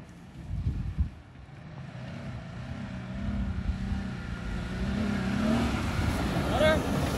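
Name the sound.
2021 Jeep Gladiator accelerating in first gear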